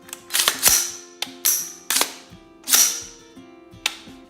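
Trigger function check on an AR-15 built in 300 Blackout, a series of sharp metallic clicks and snaps spaced unevenly, about seven to eight distinct clicks, close and crisp with short decays.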